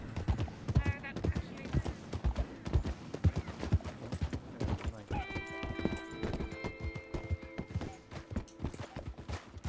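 Horse hooves clip-clop steadily in a western roleplay game set in 1903, with a horse whinnying midway and people talking over the hoofbeats.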